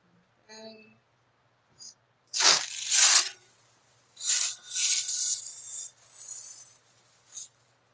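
Grapevine tail being trimmed on a 14-inch wreath, heard as close, irregular bursts of crisp crackling and snapping twigs between quiet pauses, after a brief voice at the start.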